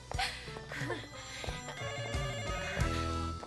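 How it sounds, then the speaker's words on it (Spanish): A telephone rings with bright electronic trills, repeating over a busy mix of other tones and some voices in the background. "Está sonando el teléfono."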